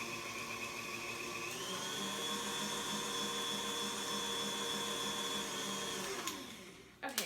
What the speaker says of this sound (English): So I'm just going to whisk this up just a little bit more.